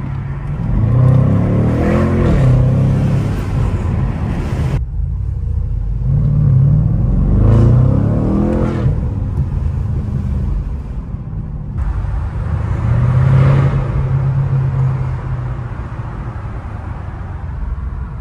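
A BMW M550i with the N63 twin-turbo V8 revving on a night drive: three rising waves of deep engine roar, each building and easing off, heard from inside the car with a steady low rumble between pulls.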